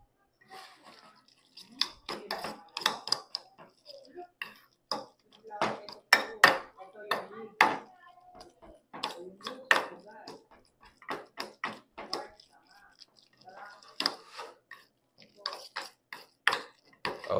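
Sisig sauce being stirred in a bowl, a spoon clinking and scraping against the sides in quick irregular bursts, close and fairly faint.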